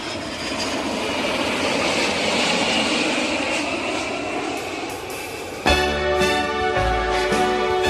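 Airplane taking off as a radio sound effect, a loud continuous jet-engine roar swelling and holding, with music starting near the end.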